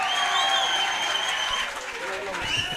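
An audience claps steadily and fairly loudly at a Tamil stage comedy drama, a dense continuous applause lasting throughout with music tones running alongside.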